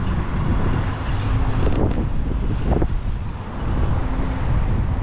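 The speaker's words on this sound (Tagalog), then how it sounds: "Very windy today, guys." Strong outdoor wind buffets the microphone in loud, continuous gusts with a heavy low rumble, rising and easing over a few seconds.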